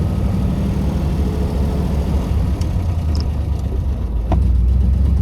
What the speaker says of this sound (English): Nice dual exhaust.